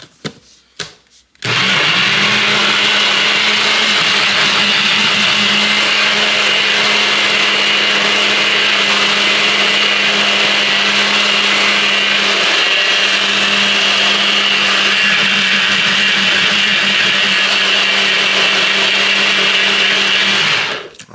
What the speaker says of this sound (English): We're going to get this on this blender.